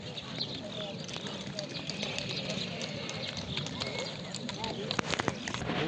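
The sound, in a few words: horse walking, hoof steps at a livestock market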